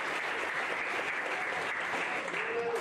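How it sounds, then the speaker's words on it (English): A crowd at a high school spring sports banquet applauds the baseball coaches, a steady, dense round of clapping that fills the room loudly and continuously throughout. "Nice round of applause for our baseball coach."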